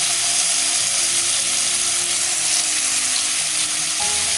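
Chicken pieces for a tikka biryani shallow-fry in hot oil, a loud, dense, steady sizzle that fills the whole stretch without a break and with no voices.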